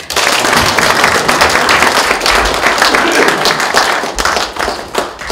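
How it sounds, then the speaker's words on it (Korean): An audience at a ceremony marking the 148th birth anniversary of founding president Syngman Rhee claps together, a loud, dense, continuous wash of hands lasting about five seconds. "다 함께 서로를 격려하는 마음으로 박수하겠습니다"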